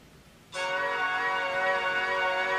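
Music plays through the single mono speaker of an ASUS Padfone Infinity phone, starting abruptly after half a second of quiet room tone and then sustained, fairly loud and bright, with no talking.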